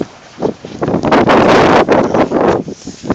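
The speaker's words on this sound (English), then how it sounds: "the wind just like races across" Strong wind in a snowstorm across flat land in Barrow, Alaska, roars and buffets the microphone in loud uneven gusts that rise and fall over a few seconds.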